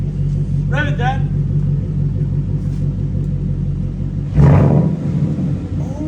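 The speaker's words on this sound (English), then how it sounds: "Rev it, Dad." A Ford Mustang GT with a Coyote V8 and SR Performance axle-back exhaust sits in a steady, close idle rumble that swells into a short, loud rev near the end, with a voice speaking briefly over the engine.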